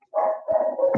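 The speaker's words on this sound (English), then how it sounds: "Yeah, it's a dog in the background." A neighbor's dog barks in the background, two loud, drawn-out barks with a short gap between them, heard alone with no talk.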